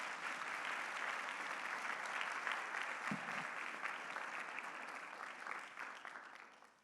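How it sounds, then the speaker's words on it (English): A large luncheon audience gives sustained, dense applause for the event sponsors, loud and even throughout before gradually tapering off at the end. "If you could please join me to give all of those sponsors a round of applause."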